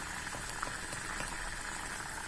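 Green banana gravy with coconut, tomato, ginger and garlic bubbling at a steady boil, a dense, even burble throughout with no talking.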